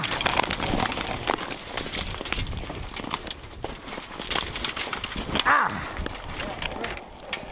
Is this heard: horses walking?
yes